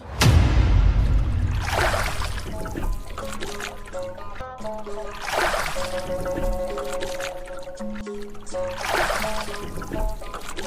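Oar strokes in water as a boat is rowed, a swishing splash about every three and a half seconds over steady background music.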